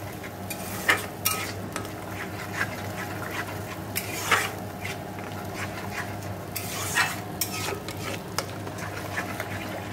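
Spice paste for paneer masala stir-fried in a pan, a continuous close sizzle broken by repeated scraping strokes of a spatula at an irregular pace.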